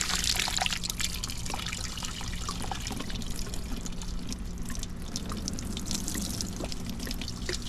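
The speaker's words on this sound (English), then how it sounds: "it's raining and our pond starts to hold" Rain falls into a leaking pond that is starting to hold water, a close, steady splashing and trickling patter with scattered drips throughout.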